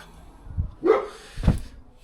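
A dog barking inside or near a garden shed, three separate barks with pauses between them, fairly close and moderately loud, with no talk.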